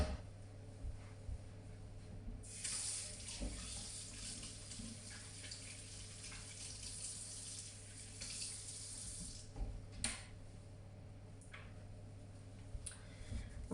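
Tap water runs into a kitchen sink for hand washing during queen cake baking, a steady rushing stream lasting about seven seconds over a low room hum, then fading to small clicks and knocks.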